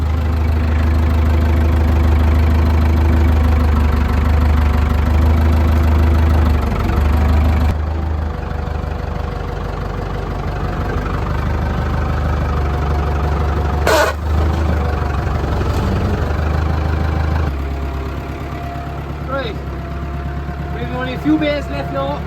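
A tractor engine idles steadily with a low, continuous rumble throughout, a brief clatter partway through, and some faint background activity, on a farm while handling silage bales.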